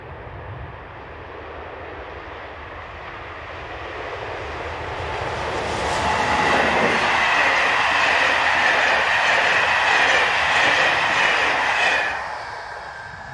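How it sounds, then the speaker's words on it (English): An SNCF BB15000 electric locomotive hauls a passenger train north past Foussois, its rumble swelling from a distant murmur into a loud, close roar of rolling wagons before easing off at the end. "A great view of the loco and its train, as it heads north past Foussois with the 1836 Paris Toussaint Dizier"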